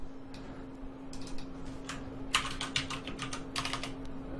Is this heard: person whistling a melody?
no